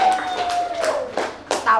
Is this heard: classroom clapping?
yes